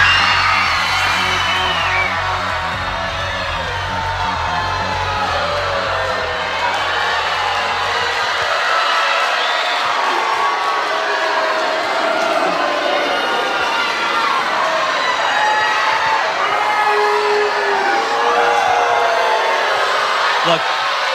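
TV singing competition audience erupting after an elimination announcement, loud sustained cheering, whoops and yelling that swell and persist, with a low rumble fading early on.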